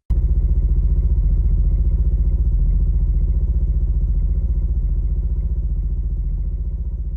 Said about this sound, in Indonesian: suara motor berhenti di depan kontrakan kami